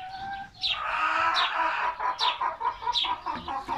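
A broody hen clucking close by in a farmyard, a run of short repeated clucks and sharp chirping calls in an uneven rhythm, with no talking.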